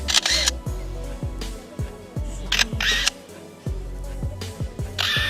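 A bird mimics a camera shutter with a few sharp, crisp clicks spaced apart, over a low droning background.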